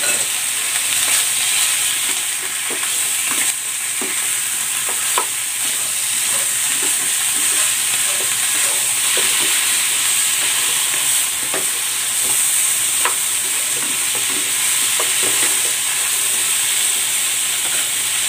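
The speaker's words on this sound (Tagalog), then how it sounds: "Igigisa ko na dito itong pork ribs." Pork ribs sautéing in a hot pan, a loud, even sizzle with occasional clicks and scrapes of a utensil turning the meat, heard up close with nobody speaking.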